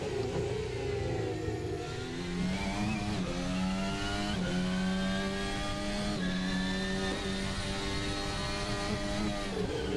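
An F1 race car in a racing video game screams at high revs, then drops from fourth to third gear with stepped pitch falls and rises, a continuous loud, close engine whine.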